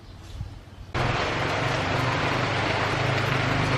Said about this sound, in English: That's the sound of rain right there.